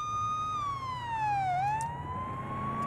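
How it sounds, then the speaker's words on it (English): Police car siren in the video game Police Simulator: Patrol Officers, a car like a Ford Crown Victoria, wails steadily, its pitch dipping and rising again over a low engine rumble, loud and continuous. "we need to do sirens, emergency lights"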